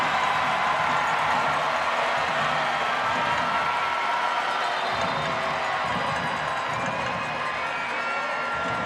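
Stadium crowd at an FC Tulsa versus Pittsburgh Riverhounds SC soccer match, a steady, dense roar of cheering and shouting that fills the whole stretch without letup.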